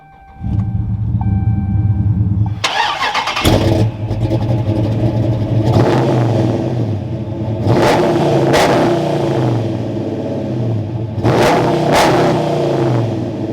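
An 1100 HP Dodge Charger Scat Pack fires up with a loud crank and rumble, then settles into a deep idle broken by three sharp, close revs of the exhaust.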